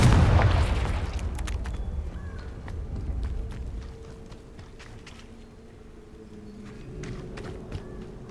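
Confringo fire spell detonating in the Hogwarts Legacy video game: a loud booming burst up front that decays into rumbling ambience, with scattered crackles and footstep-like taps trailing off.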